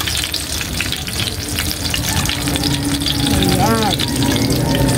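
Cooking oil sizzles steadily in a pan for an eggplant dish, a loud, continuous frying hiss with a brief voice rising near the end.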